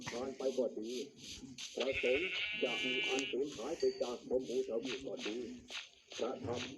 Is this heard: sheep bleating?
yes